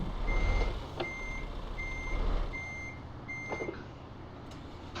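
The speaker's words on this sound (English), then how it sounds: "you can see how difficult it is to sometimes hook up your trailer if you're not paying best attention, like now" A truck in Euro Truck Simulator 2 backing up to hook a trailer, its reversing alarm repeating steady high beeps over a low engine rumble, with a couple of brief clanks.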